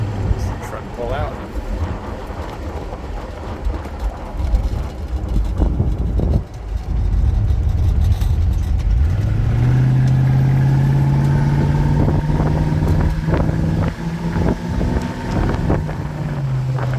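A 1964 Ford Thunderbird California Speedster convertible drives down the road, its engine note droning and climbing steadily as it accelerates under heavy wind buffeting, the tone rising then holding through the pull.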